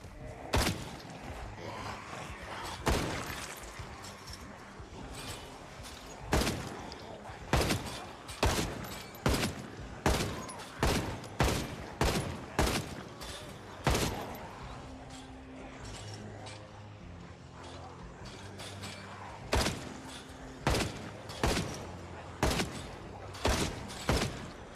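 Repeated gunfire and fusillade bursts in Project Zomboid build 42 at night, sharp loud shots in irregular clusters over a low droning game soundscape, with no talk.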